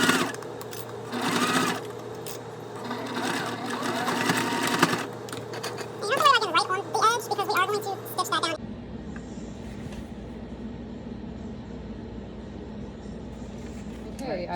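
A sewing machine stitches a pocket onto a bag in several fast, close, whirring bursts with short pauses, then falls quiet while a person talks.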